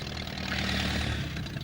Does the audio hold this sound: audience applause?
no